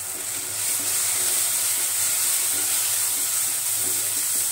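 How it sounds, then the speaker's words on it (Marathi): Red chilli powder and coriander powder sauté in a pan on the gas for a Marathi matki, drumstick and potato amti, giving a steady, close sizzling hiss with no talking. "धनिया पावडर आपण 1 चमचा टाकून घेऊ आणि सर्व मसाले आपण परतून घेऊया."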